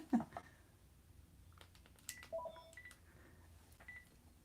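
A landline phone being taken off the hook gives short electronic beeps and clicks, a brief cluster near the start and a few tones in the middle, quiet over a hushed room with no talking.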